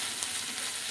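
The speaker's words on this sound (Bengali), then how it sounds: "চিচিঙ্গা ভাজা মাছে ইলিশ মাছের তেল দিয়ে" Ridge gourd fries in hilsa fish oil, giving a steady, close, hissing sizzle with no voices over it.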